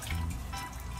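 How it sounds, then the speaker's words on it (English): Coconut cream pours steadily into a measuring cup with a continuous liquid gurgle and trickle, close and fairly loud throughout a single short stretch. "I'm gonna fill up that cup with the coconut cream, the coconut water."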